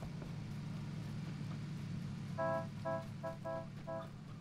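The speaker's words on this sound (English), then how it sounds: "Honking and saying hello." Car horn honking in the PUBG battle royale game, five short harmonic toots in an uneven rhythm over a steady low engine rumble.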